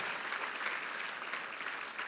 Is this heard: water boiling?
no